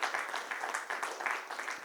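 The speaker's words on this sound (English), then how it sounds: "So a big round of applause for the chair of today's session." A festival audience at Valley of Words 2022 in Dehradun applauds the session chair with a dense, steady patter of many hands clapping, quiet and somewhat distant throughout.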